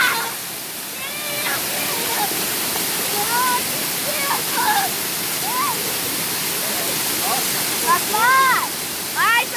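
Steady broadband roar of water falling at a waterfall, constant and close, with birdsong-like chirps and brief voices layered faintly over the rushing.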